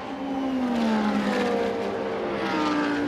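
At Spa, a GT race car from the Blancpain GT Sports Club series accelerates hard toward Les Combes, its loud engine note climbing steadily through the gears and holding close and continuous.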